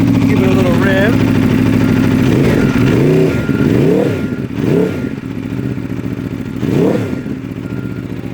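A 2022 Aprilia RSV4 Factory V4 sport bike revving in a series of sharp blips, each rising and falling over a steady running idle, loud and close, with a brief voice heard at the start.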